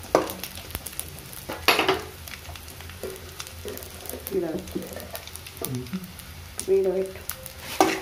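Food is fried and stirred in a pan for a multivitamin powder mix, producing a soft sizzle with scraping and clinking utensil strokes, while a voice speaks briefly over the cooking.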